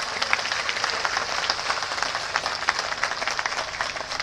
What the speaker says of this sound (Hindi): प्रत्याशी वाली ताली बजा दीजिए एक बार